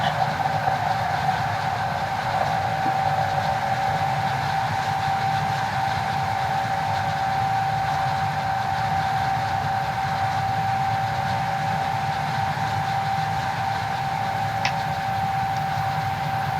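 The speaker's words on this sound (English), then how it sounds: "you have the whole engine sound in the 91" A Class 91 train engine in a train simulator game drones steadily throughout with a constant tonal hum and faint rail rumble, no talking.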